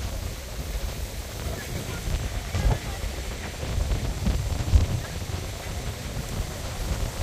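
Wind gusting across the microphone at the Guajataca tunnel in Isabela, Puerto Rico, a low, rumbling buffeting that swells and eases unevenly, close and fairly loud throughout.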